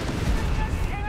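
Howitzer artillery fires in Company of Heroes 3, a heavy, rumbling boom with a low roll that fills the whole short moment. A commentator talks faintly underneath.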